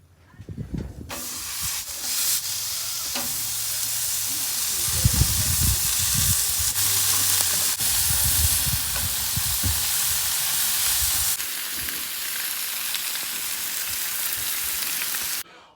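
Hamburger meat, bacon and eggs frying on a Blackstone griddle give a steady, loud broadband hiss and sizzle that runs almost the whole way, with a few brief low thumps early on and no talking.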